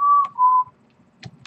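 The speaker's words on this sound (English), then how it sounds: "I love your whistling, but please stop." A whistled tune of two sustained notes, followed by a few faint clicks and soft rustling noises.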